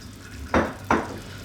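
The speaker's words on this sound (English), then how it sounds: "I just need to add a little bit of water" Two sharp splashing bursts, a fraction of a second apart, as a little water is poured into a pan of potato coconut milk curry on low heat, with faint background hiss between them.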